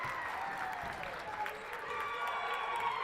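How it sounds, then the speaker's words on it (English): Hometown crowd at a high school boys basketball game, Corpus Christi Veterans Memorial vs. Corpus Christi Ray, cheers in a steady roar that sits under an announcer's play-by-play. "As the hometown crowd screeches just a little bit"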